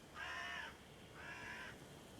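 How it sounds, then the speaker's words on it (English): Crows cawing in The Witcher 3 video game, two drawn-out harsh caws spaced about a second apart, moderately loud over a low ambient hum. "The crows serve the crones."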